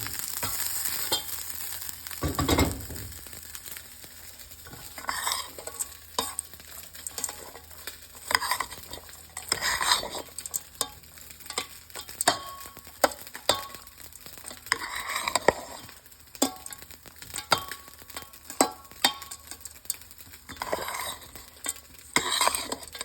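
Cooked rice is stirred into a tangy lemon rice (pulihora) mixture in a pan, making steady scraping and soft sizzling. The spoon clatters against the metal in an uneven rhythm throughout, close up, with no talking.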